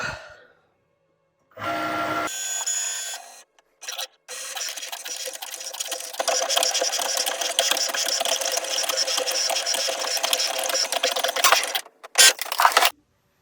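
A cutting machine whirs as it cuts an iron-on decal for leather, a steady motorized buzz with short stops and restarts, close by and with no talk.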